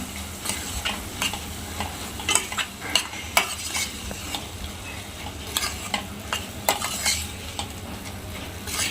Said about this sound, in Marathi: आपण त्यामध्ये ही रात्रभर भिजवून घेतलेली मटकी टाकून घेऊया आणि तीसुद्धा आपण थोडीशी तेलामध्ये परतून घेऊया